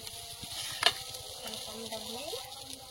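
Potatoes sizzle softly in a pan while being stirred, a steady low frying hiss with one sharp clink of a utensil partway through.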